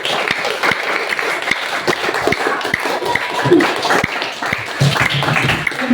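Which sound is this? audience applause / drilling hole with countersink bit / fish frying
audience applause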